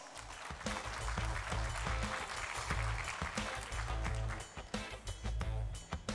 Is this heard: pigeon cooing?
no